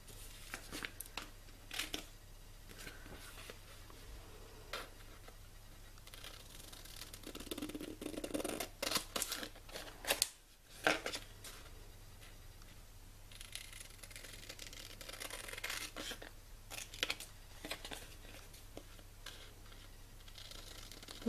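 Scissors snip out a piece of paper laminated with a clear coating, giving scattered crisp cuts and crinkling rustles at close range with a brief quiet pause midway and no talking.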